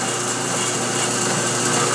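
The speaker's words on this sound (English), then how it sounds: "take the barrel out and finish drilling" A drill bores bolt holes through a gun barrel's breech plug in a gunsmith's workshop, giving a continuous high, steady whirring grind with no pauses.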